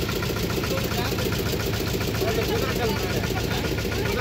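A steady motorboat engine drones throughout on a boat ride at Poolampatti, Salem, Tamil Nadu, constant and fairly loud, with a voice speaking over it.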